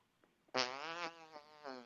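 A voice imitates a fart with a buzzing, raspberry-like sputter lasting about half a second, followed by a couple of shorter quieter bursts, close and clear with no talking.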